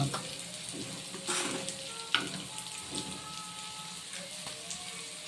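Garlic and ginger frying in a pan, a steady soft sizzle with occasional stirring scrapes and a sharp clink, close and moderately quiet, with no talking.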